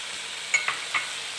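Chopped onions dropped into a hot pan for chicken Manchurian, giving a soft, steady sizzle with three brief clinks or stirring scrapes close by and no voices.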